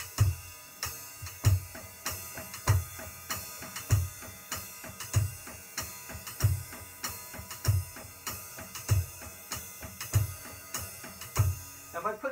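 Drum kit playing a swung triplet pattern on the ride with the right hand against steady eighth notes in the left, regular strong beats repeating evenly for about twelve seconds.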